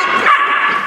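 Malinois puppies fighting give a short, loud, high-pitched yelp or whining cry, close by, lasting under a second with no talk.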